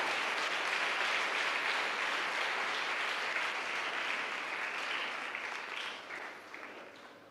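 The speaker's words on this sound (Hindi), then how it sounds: "जोरदार ताली बजाओ, जोरदार ताली।" A crowd at a Hindi Christian worship gathering claps loudly, a continuous dense rattle of applause that stays strong and then gradually tapers off toward the end, with no talking over it.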